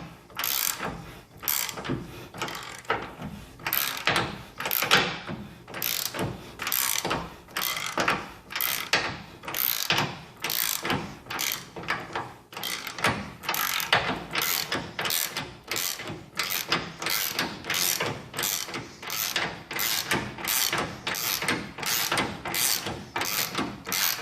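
Socket ratchet backing out a leaf spring bolt on a 2013 Toyota Tacoma, a close, steady run of quick clicking strokes repeated in regular bursts for over twenty seconds.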